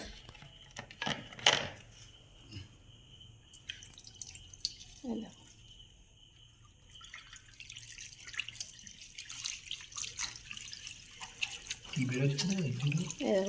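Water splashes and drips as a small fish aquarium is rinsed in a sink, with intermittent trickling and light knocks. People talk throughout.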